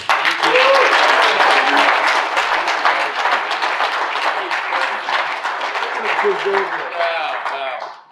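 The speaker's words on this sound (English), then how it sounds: "Please welcome with a great big round of applause our friend, Justin Bill." Loud, sustained applause from a rally audience welcoming a keynote speaker at the Steve McQueen Rally 2024, dense clapping throughout that fades out near the end.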